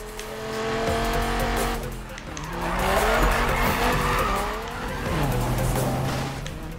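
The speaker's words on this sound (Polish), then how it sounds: "Ale ten Viper pięknie chodzi. Słyszycie ten ryk tego silnika?" A Dodge Viper in the 2015 Need for Speed racing game roars through gear changes, engine pitch climbing and dropping in sweeps while tires squeal and skid, loud and continuous over several seconds.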